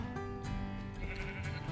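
Sheep in Minecraft bleat in several short, close calls, one after another, with no talk over them.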